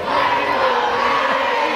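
Loud, dense roar of a high school basketball crowd cheering and shouting in a gym, steady and unbroken throughout.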